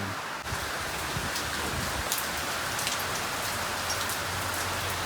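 Rain falls steadily, a constant close patter of drops on a surface with a few sharper ticks, and nobody speaks.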